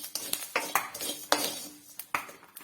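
A metal spoon scraping and clinking against a pan while fried ingredients are scooped out during home cooking of ari unda, a sequence of close, sharp taps and scrapes.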